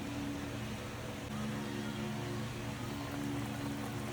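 Pork adobo with pork skin simmers in a pot, a steady soft bubbling hiss with faint crackles over a constant low hum, close by and without talking.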